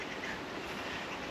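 A train rumbles past with a dense, steady roar of rolling wheels and rail noise, constant and fairly loud throughout with no voices.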